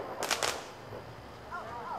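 Fireworks burst at an outdoor display near a crowd, two sharp loud booms in quick succession early on, followed by quieter crackle and faint whistling as voices murmur in the background.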